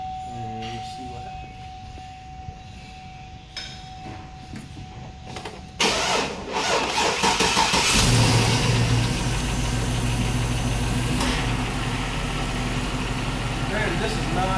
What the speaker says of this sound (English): As you can see, it just started this truck.